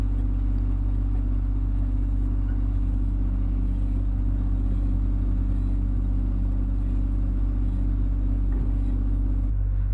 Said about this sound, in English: The tapping bar with a drilling bit on the end of it.